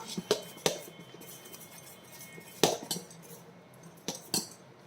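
Horsegram dosa batter being mixed with a spoon in a vessel, irregular metallic knocks and clinks against the rim over soft scraping, fairly faint and close, no voices.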